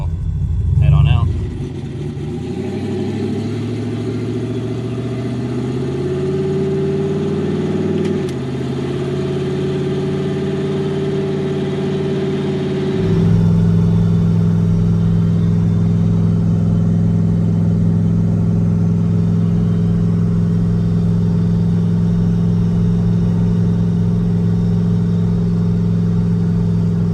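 A turbocharged Datsun 280Z street car pulls away, its engine note rising and shifting before settling into a steady, droning cruise, heard loud from inside the cabin.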